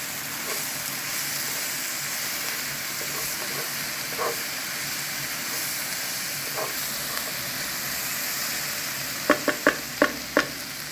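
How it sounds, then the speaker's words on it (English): Zucchini and eggplant with added spices fry in a pan under a steady hissing sizzle, with faint occasional stirs and a quick run of sharp clacks near the end, and nobody speaking. "And we are gonna add our spices here. Just spread it around. And mix them up."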